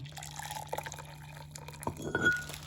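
Water poured into a cup of rice, close trickling and dripping with a brief splashy gush near the end, quiet and alone.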